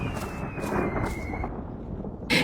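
A cartoon thunderstorm rumbles low and continuous with steady rain hiss underneath, and a brighter crack bursts in right at the end.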